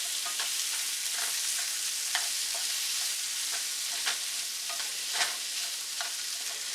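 Potatoes fry steadily in a pan on moderate heat, a continuous bright sizzle broken by repeated scraping stirs at irregular intervals, close and fairly loud with no voices.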